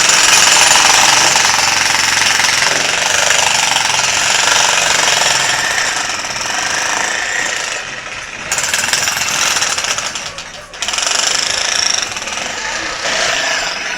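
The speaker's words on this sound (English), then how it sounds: "Demo hammer" A demolition hammer pounds concrete at a pool build site in Panglao, Bohol, Philippines, hammering loudly and continuously with two brief pauses midway.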